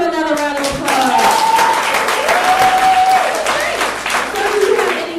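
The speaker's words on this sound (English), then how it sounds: "Let's give him another round of applause." Audience applause follows a young singer's performance at a music industry vocal coaching session, many hands clapping briskly and steadily, with voices talking and calling out over the clapping.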